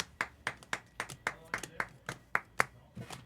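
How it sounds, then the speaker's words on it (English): One person claps hands about a dozen times in a steady, quick rhythm, the claps sharp and close against a quiet room. "Standing and clapping."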